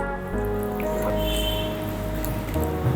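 Water poured into a pot for Tamil-style kuska rice, a short, close, continuous splashing trickle lasting a few seconds before stopping.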